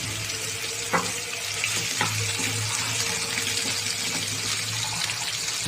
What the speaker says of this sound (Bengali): হাড্ডিগুলি আমি এভাবেই খাওয়ার জন্য ভেজে নিচ্ছি।